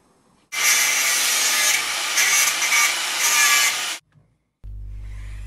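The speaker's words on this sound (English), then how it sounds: "Drilling holes to the handle" Power drill boring holes into an amaranth wood knife handle, a steady loud grinding, rubbing whir lasting about three and a half seconds before stopping abruptly, followed by a low hum.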